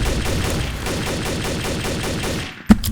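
Rapid automatic gunfire rattles through a Garry's Mod Trouble in Terrorist Town match, a dense, loud burst of shots lasting a few seconds before cutting off, followed by a single sharp shot.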